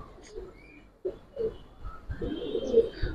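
Giribaz pigeons coo in a low, throaty series of short calls, close by and moderately loud, with faint background noise.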